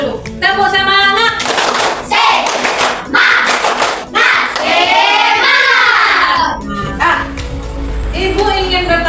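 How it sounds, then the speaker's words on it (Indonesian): A classroom group claps together in a quick rhythmic cheer pattern, with voices chanting along between the bursts of clapping. "coba kita tepuk semangat dulu"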